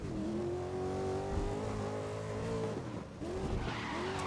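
A Ford Edge in the GRID racing game revving hard and skidding, a sustained loud engine drone with tire squeal sliding across it and a brief throttle dip near the end.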